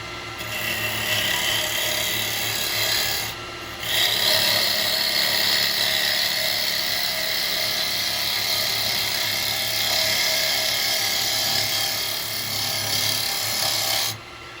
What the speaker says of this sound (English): I'm going to come in and use my spindle gouge